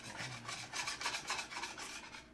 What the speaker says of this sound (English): I should sand the whole thing with 2000 grit.